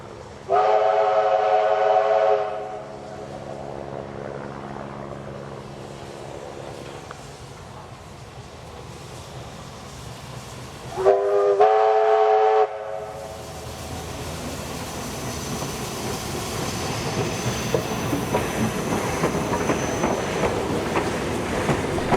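A steam train whistle sounds twice, long blasts separated by rumbling, then the rhythmic chuff and clatter of steam locomotive 3642, with Garratt 6029 at the rear, passing and building nearby at Thirlmere, New South Wales.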